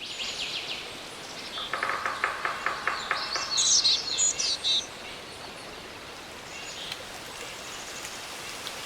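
Birds chirp and trill in quick bursts through the first half, fading away, while steady soft rain hisses underneath throughout.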